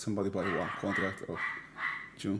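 A small dog gives several yappy barks and yips, close and loud, while someone talks over it.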